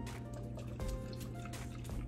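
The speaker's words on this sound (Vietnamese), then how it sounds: "trước khi mình ướp là mình cho vào một muỗng rượu mai quế lộ nha cả nhà" A spoonful of mei kuei lu chiew rose liquor poured into a marinade for turkey leg char siu, a soft liquid trickle and drip running steadily for about two seconds, close by with faint kitchen clatter.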